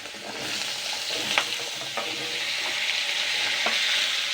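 Peeled potatoes fry in a pan of hot oil for a light vegetarian potato curry, giving a steady broadband sizzle with a few sharp clicks of stirring scattered through, close and moderately loud, with no voices.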